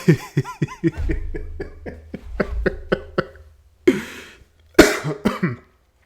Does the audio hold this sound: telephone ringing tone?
no